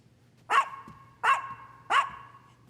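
A small Chihuahua barks three times at an even pace in a quiet room, each bark short and sharp with a brief yelping tail, close and moderately loud with nothing else audible.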